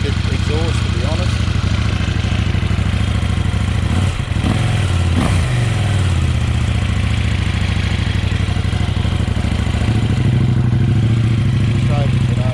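KTM 790 Adventure R engine running with a Wings slip-on exhaust and baffle fitted, a steady loud motorcycle drone with a couple of rev rises near the middle, close and continuous.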